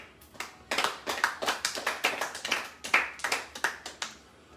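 A church congregation applauds: a run of quick, fairly soft hand claps, irregular and overlapping, steady for several seconds with no voices.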